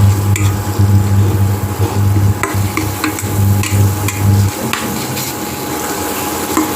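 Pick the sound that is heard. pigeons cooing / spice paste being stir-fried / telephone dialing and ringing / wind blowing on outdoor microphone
spice paste being stir-fried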